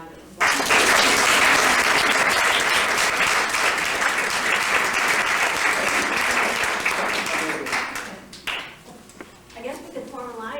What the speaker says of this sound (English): and with his wife Nancy, how about another round of applause?